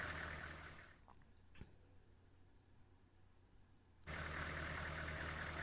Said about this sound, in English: the truck's engines idling away